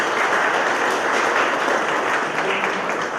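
Applause at an academic lecture event on a Nova Xavantina campus, a steady, dense wash of clapping that fills the whole moment at moderate distance with no talk over it.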